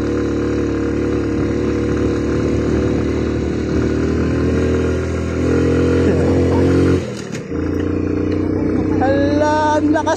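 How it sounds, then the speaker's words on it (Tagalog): A Suzuki Smash motorcycle labors up a steep, winding uphill road, its engine holding a steady mid-pitched drone that swells and dips briefly, with a rider's voice speaking over the ride. "Ala, ang lakas ni Smash. Suzuki Smash, napakalakas sa ahon guys."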